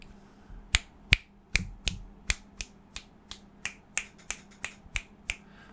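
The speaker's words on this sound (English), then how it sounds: "I will click my fingers as I did in the previous video." Crisp finger snaps repeat at a steady rhythm around an omnidirectional microphone, about fifteen sharp clicks in a quiet room, fairly close and clear with no talking.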